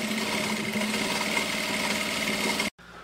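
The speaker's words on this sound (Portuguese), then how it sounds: "eu vou passar uma costura nessa marcação aqui de 4" A sewing machine stitches a seam on a handmade bag, a steady rapid mechanical whir running continuously up close, then stopping abruptly near the end.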